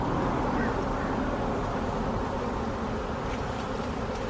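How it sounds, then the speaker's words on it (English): A swarm of honeybees clumped on a branch drones in a loud, continuous buzz, close by and steady throughout, with no voices. "When they're swarmed up like that, they buzz a lot, but they're okay."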